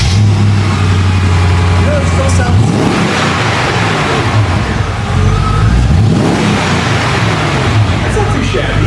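A Mercedes C43 AMG with a 5.5 engine swap starts and revs at close range. A steady, loud engine drone rises and falls, and voices talk over it.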